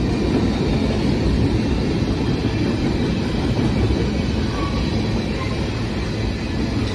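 A freight train hauling ex-KCS hopper cars rolls past nearby, a loud continuous rumble and roar of wheels on rails with faint clickety-clack, holding steady the whole time.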